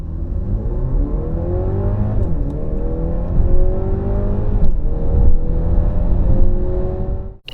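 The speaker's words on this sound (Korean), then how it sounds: "이번에는 GLC 발진과 속성은 얼마나 나은지 볼까요?" Mercedes-Benz GLC 300 4MATIC accelerating hard from a standstill, engine revving up through rising pitch with brief dips at gear changes, loud and close inside the cabin, no speech.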